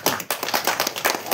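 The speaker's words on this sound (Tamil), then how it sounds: "இவர் கை தட்டினார்." Hands clapping in a rapid run of sharp, close claps for a little over a second, loud and without talk.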